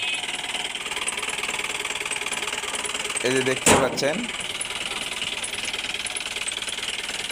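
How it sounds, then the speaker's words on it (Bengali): A Mahindra Big Bolero pickup in fresh condition idles with a steady, even engine drone; a short clattering burst comes midway, and someone talks over the running engine. "তো দেখলেন ইঞ্জিনের সাউন্ড কন্ডিশনটা মোটামুটি"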